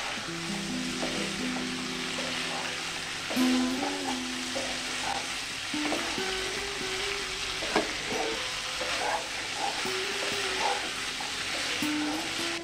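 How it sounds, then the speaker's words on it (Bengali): Chickpeas and potatoes sautéing in a spice masala for chana paneer give off a steady broadband sizzle, with a low tonal hum and occasional stirring clinks running under it throughout. "মশলার সঙ্গে ছোলা আলুগুলোকে আরো 2-3 মিনিট কষে নেব।"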